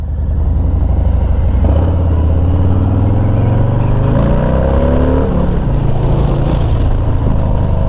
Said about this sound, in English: Let's just take the car today to do the errands.